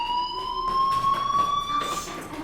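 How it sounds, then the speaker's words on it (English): A school fire alarm in the video game Life Is Strange rings steadily with a high, piercing electronic tone and a faint pulsing beat, loud and continuous through the whole stretch, with no talk over it. "Hey, do you hear that fire alarm? That means you should be outside."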